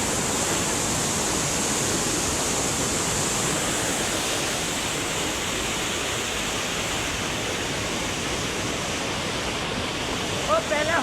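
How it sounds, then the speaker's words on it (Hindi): Loud, steady rush of fast-flowing, very cold water from a stream or waterfall near the Vaishno Devi route, a constant broadband roar with no pauses and a faint clink near the end. "पानी की आवाज़ भी सुनिएगा,"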